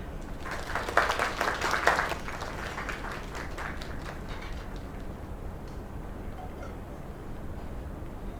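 A brief burst of applause from a small crowd in a bar, loudest in the first two seconds, then fading into a dull, steady murmur.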